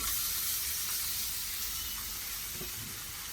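Chicken meat hits a hot pan for a village-style curry and sizzles loudly in a steady, dense hiss that barely fades over a few seconds.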